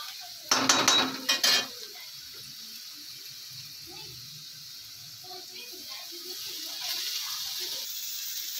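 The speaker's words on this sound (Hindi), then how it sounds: "भूने हुए जो थोड़ा सब्जी है उसमें थोड़ा सा निकाल लेंगे" A metal spoon clinks and scrapes against a pan while fried vegetables for homemade chowmein are scooped out, a short cluster of clatters followed by a faint sizzle and quiet kitchen background.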